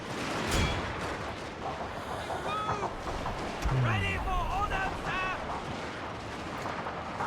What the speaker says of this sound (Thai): ส่วนปืนใหญ่เราลืมสั่งยิงเลยว่ะ สั่งยิงไปก่อน